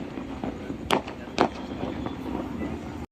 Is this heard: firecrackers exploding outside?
yes